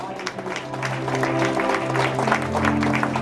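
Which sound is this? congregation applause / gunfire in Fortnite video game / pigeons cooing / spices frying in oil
congregation applause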